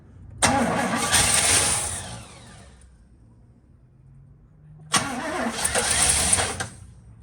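A 1976 Oldsmobile Vista Cruiser that has sat for over 21 years is cranked twice. Each attempt is a loud, close, churning starter grind lasting about two seconds, separated by a quiet pause.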